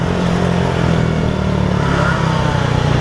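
A Moby moped engine revs steadily and loudly up close, a buzzing two-stroke drone held for about three seconds with no voices over it.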